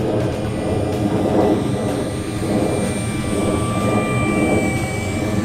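An FMS F4U Corsair 1700mm RC plane makes a slow pass with full flaps down, its electric motor droning steadily and fairly loud throughout, with a faint high whine and a slight swell as it passes.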